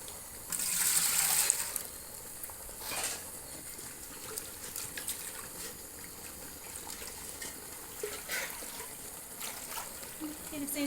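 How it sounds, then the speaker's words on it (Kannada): Water pours and splashes into a pot of sambar for a second or two, a close rushing gush that fades into quieter kitchen clatter and faint background sounds. "ಈಗ ಸ್ವಲ್ಪ ನೀರು ಹಾಕ್ಕೊಳ್ಳೋಣಂತೆ."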